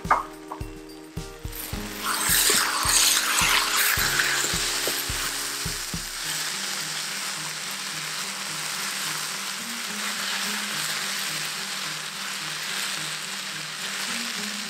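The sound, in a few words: stirring potatoes in a frying pan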